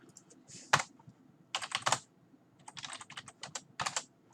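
Bursts of typing on a computer keyboard while writing code, quick clustered key clicks in several separate runs with short pauses between, close and fairly quiet with no talking.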